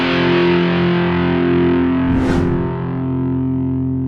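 A heavily distorted electric guitar through a Boss DS-1 distortion pedal rings out loud and sustained, a thick saturated chord with buzzy harmonics and a brief bright swell midway.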